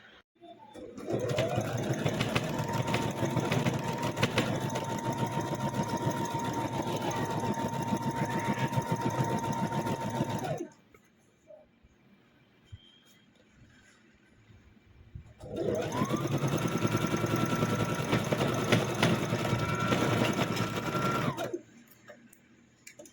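A sewing machine stitches the left and right parts of a tube top blouse onto the front piece. It runs in two steady, loud, whirring bursts of about ten seconds each, with a quiet pause between them.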